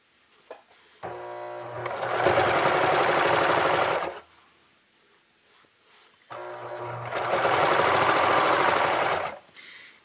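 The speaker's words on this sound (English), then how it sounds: "I'm going to keep serging all the way around until I'm a quarter of an inch away from the next corner" A serger sewing machine stitches quilt binding, running in two long, loud, steady bursts of dense mechanical whirring separated by a short pause.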